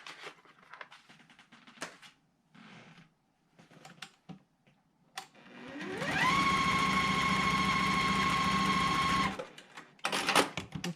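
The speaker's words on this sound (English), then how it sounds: "and then I'm going to stitch along this side here" A sewing machine stitches quilt block pieces for a block-of-the-month quilt, running at a steady high-pitched whir for about three seconds. Soft fabric handling and shuffling come before and after the run.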